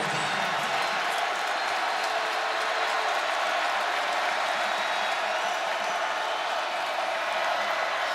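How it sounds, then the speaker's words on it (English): A big stadium crowd at the TCU versus Texas Tech football game sends up a loud, sustained roar of cheering and applause, a dense wash of noise that holds steady for about eight seconds. "I think a lot of the crowd was fooled and started to cheer when Green got swallowed up"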